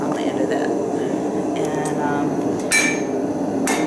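Hot steel hammered into a taper point on an anvil, with a couple of sharp ringing strikes standing out over a steady roar like a forge blower, in a workshop setting.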